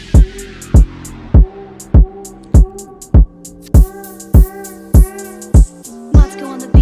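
Moombahton remix intro loop: steady, punchy kicks with deep 808 bass hits, about two per second, loud and dry with a tonal synth layer ringing between hits and no voices.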